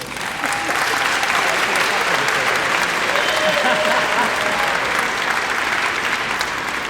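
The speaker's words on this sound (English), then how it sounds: "Applause" A school audience at a 2015 kindergarten promotion ceremony breaks into sustained applause, a thick, even roar of many people clapping that holds steady for several seconds after a quieter first moment.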